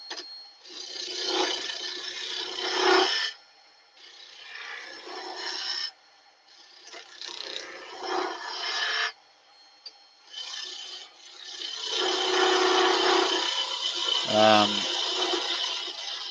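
A Crown Colwin Way signature skew chisel cuts wood on a lathe with the tool rest set low, giving several rough, rasping passes in bursts with short pauses between, loud and close.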